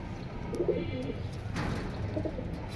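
Caged pigeons coo softly in low, rounded murmurs over a constant hiss of background noise, with a few faint clicks from the cage.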